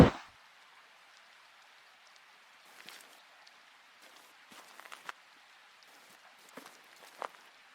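In a horror video game, rain patters in a continuous gentle hiss, broken by scattered soft taps and splashes like nearby footsteps, after a short sharp sound at the very start.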